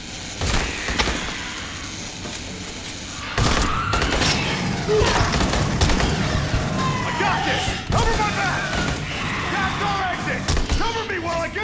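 Grenade blasts and gunfire crash through a firefight in the sci-fi shooter Aliens: Colonial Marines, with dense, loud bursts and booms in rapid succession and players talking over the chaos.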